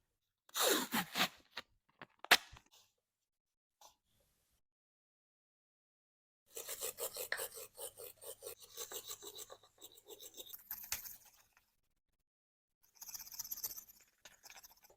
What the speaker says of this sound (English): I'm going to get some WD-40 and a wire brush, clean up these studs